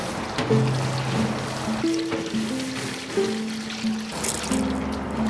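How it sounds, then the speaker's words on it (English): Kitchen sinks fill with running cold water to rinse freshly harvested collard greens, giving a steady, close splashing rush with faint tonal gurgles throughout. "then we fill them up with cold water"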